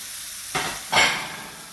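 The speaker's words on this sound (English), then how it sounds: "I'm going to start frying off the beef." Minced beef hitting hot olive oil in a frying pan, two quick bursts of loud sizzling close by, the second stronger and fading into a steady hiss.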